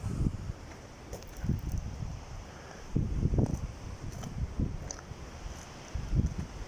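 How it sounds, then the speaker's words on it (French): Strong wind gusts buffet the microphone in uneven, rumbling bursts, with a constant airy roar underneath. "Alors, il y a beaucoup de vent."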